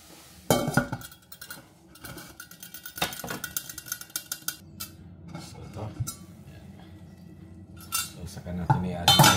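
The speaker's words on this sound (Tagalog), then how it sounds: "So tatakpan ko lang muna siya." A lid is set down on a cooking pot of simmering tomatoes for gizzard with beans, giving several sharp metallic clanks and rattles up close, followed by a low bubbling hum and more clinks near the end.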